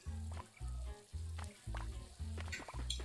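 Meat fries in pans in the Overcooked 2 kitchen, heard as a soft repeating sizzle in short pulsing bursts with light game clicks over a faint low hum.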